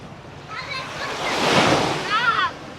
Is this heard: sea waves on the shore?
yes